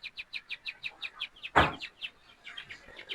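Young female quail about thirty days old, caught at a quail farm for sale, peep in a rapid, steady series of bright chirps with one louder call partway through, close and with no talk.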